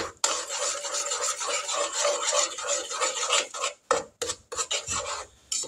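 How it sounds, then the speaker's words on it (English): Spoon scraping and stirring a brown sugar mixture for peanut butter fudge in a pan, a steady gritty rasping that runs continuously, then breaks into a few short scrapes near the end. "give this a good stir"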